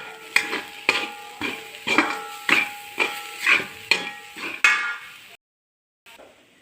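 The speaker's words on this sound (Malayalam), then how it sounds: "ഒരു ടീസ്പൂണ് മുളക് പൊടി അര ടീസ്പൂണ് മഞ്ഞൾപ്പൊടി ഇതെല്ലാം കൂടി ഒന്ന് മിക്സ് ചെയ്യാം" A spoon stirring chilli and turmeric powder into cooked jackfruit in a pan, about ten rhythmic scraping strokes, close and moderately loud, ending in a short silence.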